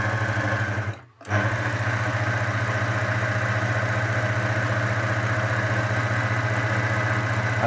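A Jaguar HQ-082DW overlock sewing machine runs with a steady, fast mechanical hum. A brief dropout near the start breaks it, then it resumes loud and continuous with no speech.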